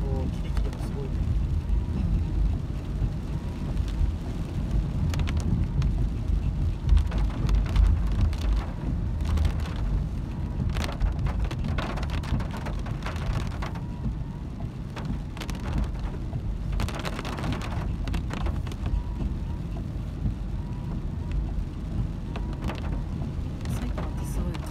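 Sudden heavy rain pours onto a moving car, a steady, loud roar of drumming drops on the body and glass throughout, with people talking inside the car at times.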